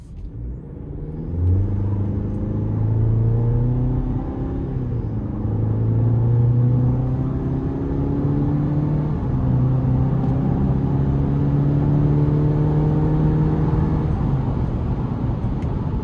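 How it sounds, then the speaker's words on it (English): A 2026 Chevrolet Colorado TrailBoss pickup speeds up on an interstate on-ramp. A steady engine drone climbs in pitch through the gears under a constant road rumble inside the cab, with no floored throttle. "I'm gonna give it a pull here getting on the interstate"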